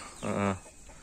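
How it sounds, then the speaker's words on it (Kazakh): A single short cluck from a nearby chicken roaming outdoors, alone against a quiet background. "міне тауықтар әлгі бәрі далада жайылып жүр"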